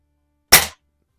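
An 1889 Daisy first model air rifle fires once: a single loud, abrupt crack with a short decay, close by in otherwise complete silence.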